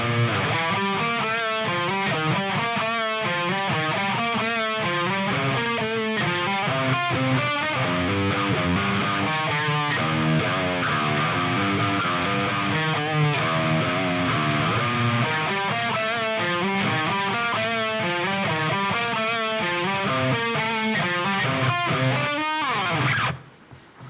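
A distorted metal guitar riff played through a Line 6 Pod Go on a 5150 amp patch chugs in fast, tight rhythmic bursts, loud and continuous until it cuts off at the end.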